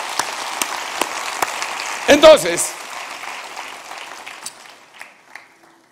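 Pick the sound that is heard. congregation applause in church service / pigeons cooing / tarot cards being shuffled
congregation applause in church service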